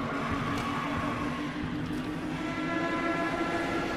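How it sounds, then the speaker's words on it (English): A train in a video game rumbles past in a continuous low roar with a faint steady tonal whine, moderately loud and without voices. "Another train comes from the left."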